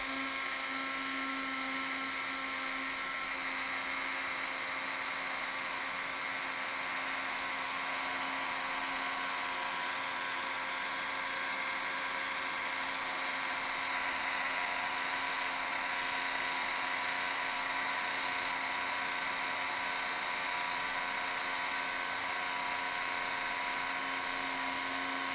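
A heat tool for card making blows hot air in a steady, high-pitched whirring drone with a constant tonal hum. It runs unbroken for the whole stretch, close and fairly loud, with no talking.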